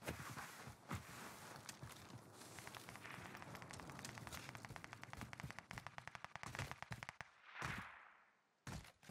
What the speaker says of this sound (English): A lot of shooting, no killing.